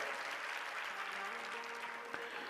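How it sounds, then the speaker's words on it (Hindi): An audience at a Hindu religious discourse claps, a steady even wash of applause heard somewhat distantly, with a faint voice and tonal hum running underneath. "आप तालियां कुछ ज्यादा तो नहीं बजा रहे हैं"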